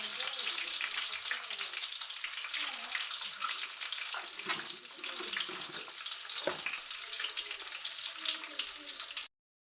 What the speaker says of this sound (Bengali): দেখুন বন্ধুরা হালকা করে ডিমগুলো আমি ভেজে নিলাম